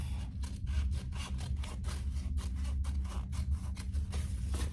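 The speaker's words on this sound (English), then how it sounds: "I am going to cut that excess of my slip pocket off" Scissors cutting excess fabric off a slip pocket on a sewn triple-zip crossbody bag, giving a steady series of close, soft rhythmic snips and rubbing over a low hum, with nobody speaking.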